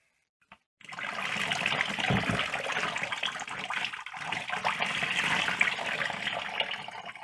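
Water pours steadily through a freshly watered potted plant in sphagnum moss and drains out below. After a brief tap, a continuous, fairly loud splashing trickle runs without pause.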